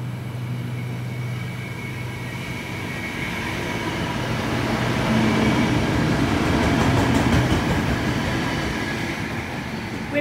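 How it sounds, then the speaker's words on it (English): A heavy cement freight train rumbles steadily through a station platform, its low roar swelling as the wagons roll through, with rattling and a faint hum throughout. "Cement train through platform number 2"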